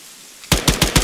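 A quick burst of four loud, evenly spaced machine gun shots from ArmA 3 cracks out close by after a short quiet lead-in.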